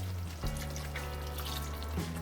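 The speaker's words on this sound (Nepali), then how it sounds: "यसमा थोरै पानी राखेर पनि राखौँ।" Water poured into an emptied coconut milk can to rinse it out before adding to a chicken curry, a steady pouring trickle lasting a couple of seconds with a ringing, can-resonant tone.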